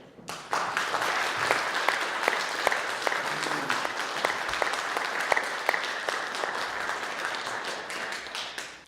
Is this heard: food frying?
no